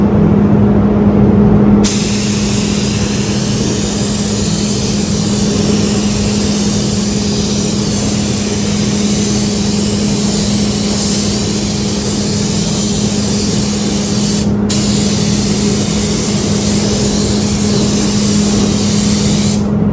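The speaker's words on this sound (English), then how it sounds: "Time for a little clear coat." A spray gun spraying clear coat on a Honda Civic engine bay hisses continuously and loudly, broad and steady, with one brief break partway through.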